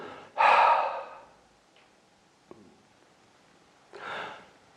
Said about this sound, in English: hold for a couple of seconds, and then take a breath like this